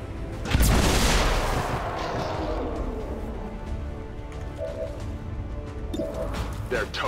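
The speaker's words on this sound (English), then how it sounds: "Yeah, I'm gonna use a grenade here." A grenade blast in XCOM 2 bursts out loud and close, a sharp crack swelling into a heavy boom that trails off into a long rumbling decay, with faint tones lingering afterward.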